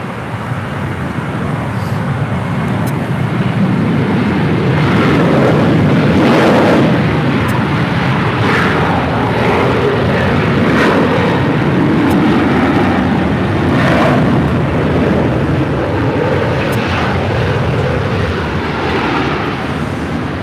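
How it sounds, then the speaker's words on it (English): A JetBlue Airways Airbus A321 arriving on runway 7 right at LAX, a loud, continuous broadband roar of the jet that swells and lingers for about twenty seconds, with no talk. "Next arrival on 7 right is JetBlue Airways flight 2801 coming in from Fort Lauderdale, Florida."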